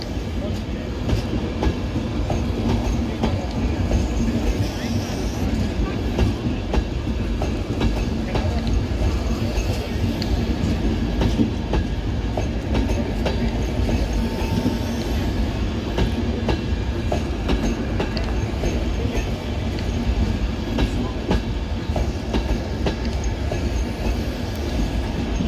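LNER class 91 electric locomotive 91104 departs Newcastle pulling a set of Mark 4 coaches. Wheels rumble steadily and loudly with rhythmic clickety-clack and occasional squeal throughout, close by.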